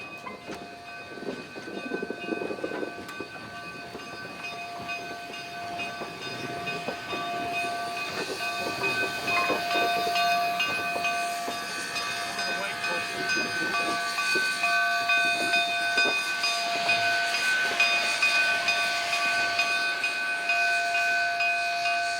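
Steam locomotive number 489, converted to burn oil, works near the Chama yard on a narrow-gauge tourist line, a continuous hiss of steam building over a rumbling, clanking run with faint tonal whistle-like lines and no voices.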